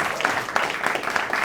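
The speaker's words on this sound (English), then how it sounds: "Give him a big round of applause." Studio audience applauding during a talk show, a dense steady wash of clapping over a short stretch with no talk on top.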